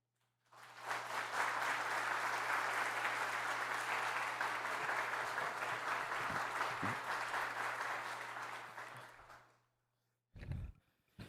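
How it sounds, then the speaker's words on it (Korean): A church congregation gives sustained, even applause to welcome the preacher to the pulpit, swelling in and fading out after several seconds, followed by a brief sound. "우리 목사님 나오실 때 큰 박수로 환영하겠습니다."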